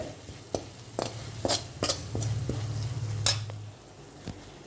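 Masala with coriander powder is sautéed and roasted in a pan for a pork and koorkka dish: crisp spatula clicks and scrapes sound repeatedly over a soft sizzle and a low steady hum.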